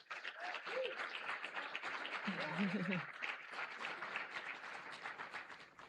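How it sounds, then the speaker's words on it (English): A crowd at a storm chaser hall of fame event applauds warmly, continuous clapping filling the room with a few voices calling out over it before the noise holds steady. "Can we get a round of applause for Al Moller?"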